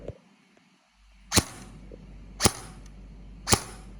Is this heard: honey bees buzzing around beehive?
no